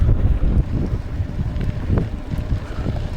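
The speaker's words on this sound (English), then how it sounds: "Can you guys hear the wind?" Strong wind buffets an action camera microphone outdoors at the start of a downhill ride, a loud continuous rumbling roar that gusts unevenly throughout.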